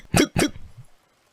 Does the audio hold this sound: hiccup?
yes